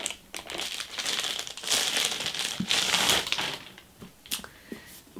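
Wrapping crinkles and crumples close up as a book package is opened, a continuous rustle of paper or plastic with sharper crackles near the end.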